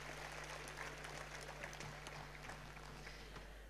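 Audience applause for a band at Festival Veneto 2012, steady and fairly faint, filling the whole stretch with a low hum beneath.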